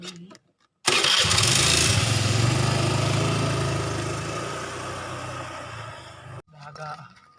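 A motorcycle engine starts after a brief pause and settles into a loud, steady running drone that slowly fades before cutting off, with faint sounds of people nearby.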